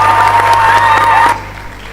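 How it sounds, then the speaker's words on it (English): An audience at an academic induction ceremony for the food science and technology profession applauds loudly and steadily, then the clapping drops off abruptly to a quieter room hum. "With a resounding applause, I present to you Professor ABIODUN Aderoju Adeola."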